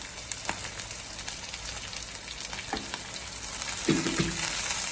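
Green chillies and curry leaves fry in hot oil in a pan for egg curry, a continuous close sizzle with occasional sharper crackles and spits, louder bursts near the end, no voices.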